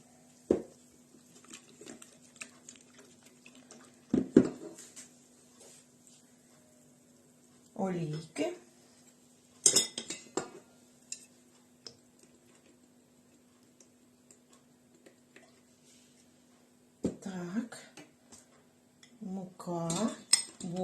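A whisk or spoon scrapes and clinks against a bowl while pancake batter made with salt, warmed milk and sifted flour is stirred, in short bursts separated by quiet pauses, with a steady faint hum underneath.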